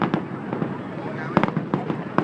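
New Year's Eve fireworks in Kien Giang crackle and pop in irregular bursts, with some sharper nearby bangs, under a busy outdoor background of voices and crowd noise.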